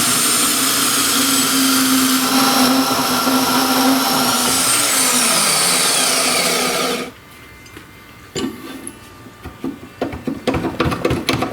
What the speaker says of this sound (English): we can just chop off the top little section.